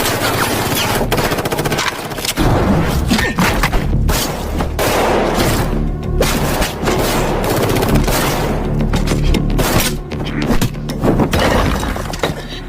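Gunfire in a fight scene from an action film, with rapid bursts of loud shots mixed with shattering glass and breaking debris, dense and continuous over a dramatic soundtrack.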